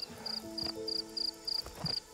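Cricket beside a glass frog in a wet aquatic habitat gives a run of regular, evenly spaced high chirps, five or six short bursts in quick succession, clear and fairly close with no talking.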